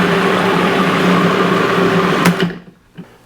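A food processor whirs steadily as it purees tomato soup with thyme, rosemary and bay leaves, a loud continuous motor drone that cuts off near the end, leaving brief faint clatter.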